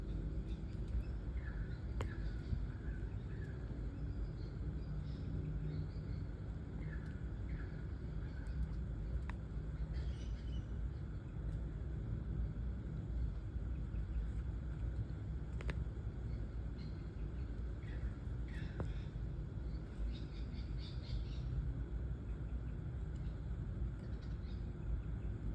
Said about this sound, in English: Can you hear the traffic today?